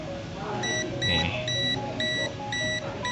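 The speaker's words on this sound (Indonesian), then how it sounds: "Kalau kita tempelkan di kabelnya semakin dekat, maka akan terdeteksi bunyi dan lampu lidnya menyala ya." Beeping from a TS 202+ digital clamp meter's non-contact voltage detector held near a cable, a series of short, regular electronic tones repeating about twice per second, clear and close.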